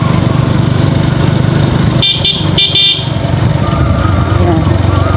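Vehicle horn honks on a narrow rural road through dense woods, two short blasts around the two-to-three second mark over a steady running engine, with people talking throughout.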